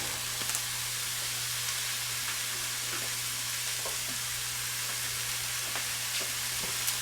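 Ground beef and onions fry in a pan with a continuous, even sizzle and soft crackle, close and steady all the way through, with no talking.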